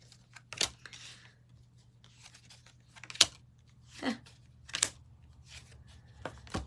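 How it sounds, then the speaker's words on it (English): Playing cards are pulled one by one from a shuffled deck, giving sharp, close slaps and soft sliding rustles at irregular intervals, about five or six distinct strikes with quiet gaps between them and no talk. "I'm going to pull 5 cards."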